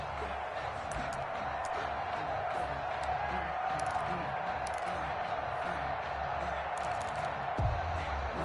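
Stadium crowd at an NFL game between the Carolina Panthers and Chicago Bears, a steady wide roar of distant cheering and murmur with scattered whoops, continuous throughout.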